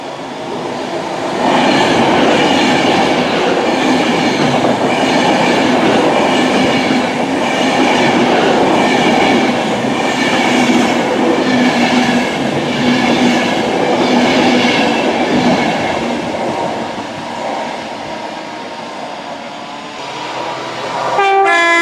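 A loud train roars past close by through Long Buckby station on the Northampton Loop, wheels rattling steadily over the rails for many seconds before the noise fades and then swells again.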